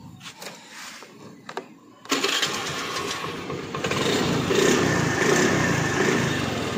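A 2018 Honda Dio scooter sits quiet through a few clicks and taps, then its engine catches abruptly and settles into a busy idle. The idle swells somewhat louder toward the end.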